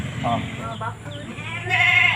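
Village and crossbred goats bleat on a goat farm, their wavering calls rising now and then over a person talking nearby and steady background noise.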